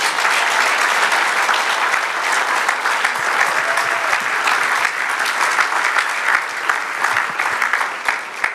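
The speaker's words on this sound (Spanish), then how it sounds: "Dale un aplauso al Señor." A church congregation applauds the Lord during a Spanish-language sermon, a loud, sustained round of many hands clapping that holds steady for several seconds, with occasional sharper claps poking through.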